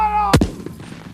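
A Civil War artillery cannon fires once, a sharp, loud boom that cuts through a lingering tone and then rumbles away into a fading tail.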